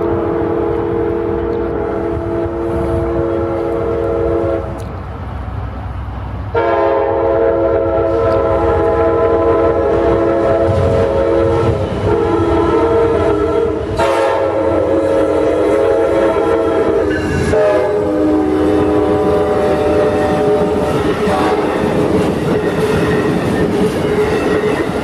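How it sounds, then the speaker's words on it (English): An Amtrak passenger train rolls past close by coming out of Ybor City, its horn sounding in long sustained blasts over the loud rumble and clatter of the cars. "There goes Amtrak train 92."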